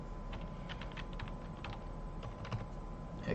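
Keys clack in a quick, uneven run on a computer keyboard as a password is entered, the presses close and fairly soft over a low background hum.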